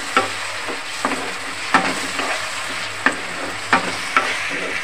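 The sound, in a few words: stirring cashew paste and green chili into fried onions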